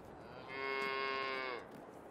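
A calf in Farming Simulator 22 gives a single clear, drawn-out moo lasting about a second, loud against faint background ambience.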